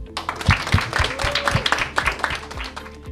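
The audience at an eloquence contest's final show applauds: a scattered crowd clap with some loud, sharp individual claps standing out close by, uneven and lively throughout.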